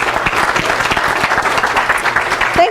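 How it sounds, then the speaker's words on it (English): Loud, close applause from a fellowship gathering honoring Sharon Denning, with many hands clapping steadily for a couple of seconds. "Let's give Sharon a really, really big round of applause."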